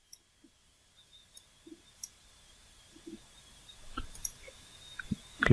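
Computer mouse clicks come as a string of small, sparse taps that grow slightly more frequent toward the end, faint and close over a quiet background hum.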